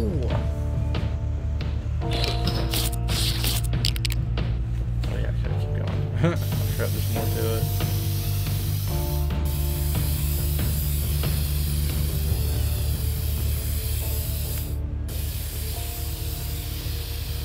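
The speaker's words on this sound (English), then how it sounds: "You can do some spray tag art, Banksy style stuffs." Spray-can tagging in the video game Infamous Second Son makes a continuous hissing spray over a steady game soundtrack for the whole stretch, loud and unbroken.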